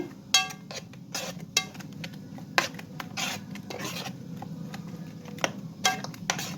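A spoon stirs a chicken marinade with ginger and salt in a bowl, scraping and clinking against the sides in irregular strokes, close and moderately loud with no talking.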